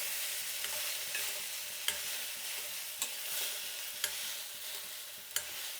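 Curry leaves and ground paste roast in a pan with a soft, steady sizzle, and a spoon scrapes the pan in sharp taps about once a second; no one speaks.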